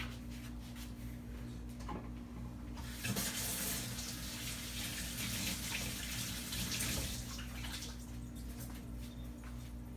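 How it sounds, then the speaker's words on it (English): Water runs steadily from a kitchen tap while hands are washed, a soft continuous stream with splashing that strengthens midway and then settles back, with no talking. "I'm just going to wash my hands really quick."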